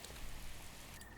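Steady rain in the Breath of the Wild video game, an even, dense hiss of falling drops spreading across the surroundings, heard alone for a short moment.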